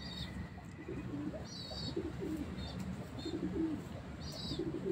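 A pigeon cooing softly in repeated low phrases, faint against steady outdoor background noise, with a few brief high bird chirps over it.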